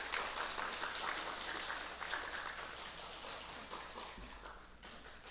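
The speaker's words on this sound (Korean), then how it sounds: "한번 서로를 얼굴을 보시면서 한번 박수를 쳐주시면 어떨까요?" A church congregation claps together during a revival service, a soft, distant patter of many hands that fades gradually over a few seconds.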